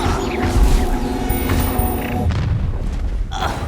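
A Confringo explosive spell detonates in Hogwarts Legacy, a loud booming blast with crashing debris and a rumbling tail, close and heavy throughout the short burst.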